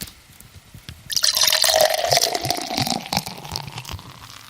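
Raspberry craft beer pours with a bubbly, splashing gurgle that starts after a brief quiet pause, loud and close, then fizzes and settles as the glass fills.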